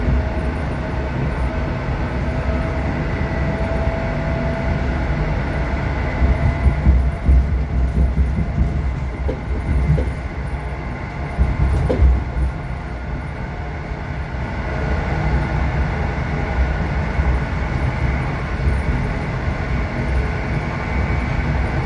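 EN57AL-1770 electric multiple unit train on the Kłomnice to Częstochowa Aniołów line, heard from inside as a steady loud rumble with wheel noise and faint rail clacks throughout, no talking.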